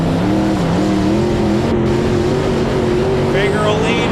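Race cars, including a Lotus 40, roar off the start at Quincy Raceways, a loud, steady engine drone with rising pitch from a close car, and a commentator talking over it.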